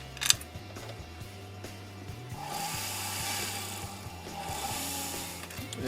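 A hand tool trims 18 karat gold jewelry at a repair bench, a faint rasping scrape that rises and runs steadily through the second half against a low, quiet background hum.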